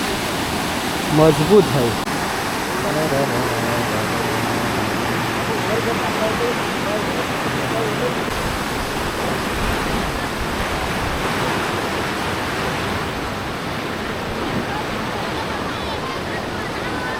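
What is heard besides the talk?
torrential monsoon rain and rushing river water in Konkan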